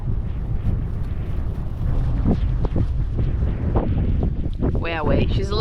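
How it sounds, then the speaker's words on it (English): Strong wind buffeting the microphone on an island shore, a loud continuous roar with low rumbling gusts, plus a boat motor and voices talking over it toward the end. "she's a little bit windy this afternoon"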